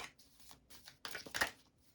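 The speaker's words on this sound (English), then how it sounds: "I'm just giving this a quick shuffle" Tarot cards being given a quick shuffle, a run of soft, papery riffling bursts that build toward a louder flurry near the end, quiet and close with no talking.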